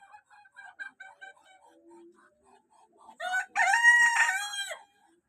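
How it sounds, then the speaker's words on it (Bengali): A rooster perched on a roof gives a series of soft, short clucks, then lets out one loud, drawn-out crow close by before falling silent. "দেখুন কত সুন্দর একটা মোরগ"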